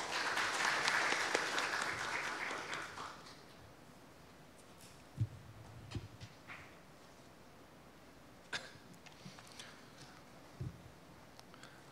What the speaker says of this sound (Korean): 박수로 환영해 주시길 바랍니다